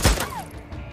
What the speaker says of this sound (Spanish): Varios disparos.